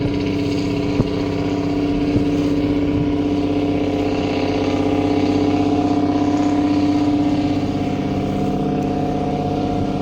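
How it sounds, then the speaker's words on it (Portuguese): A noisy truck engine holds a loud, steady, rough drone throughout, close by and unbroken, with no voices over it. "Chegou a sessão do caminhão barulhento"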